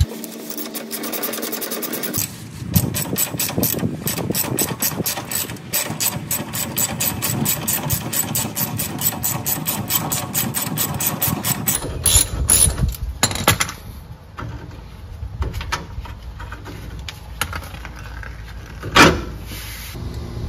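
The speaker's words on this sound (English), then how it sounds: "I'm gonna loosen a 19mm bolt on this side." Rapid, steady ratchet clicking as a 19mm bolt on the passenger-side rear shock is loosened during a Bilstein 4600 shock replacement; the fast mechanical ticking runs loud and close for most of the stretch, then turns sparser and more uneven.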